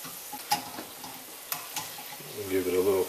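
A corn tortilla fries in a pan, a soft sizzle with a few light clicks and taps, ending with a brief voice-like tone.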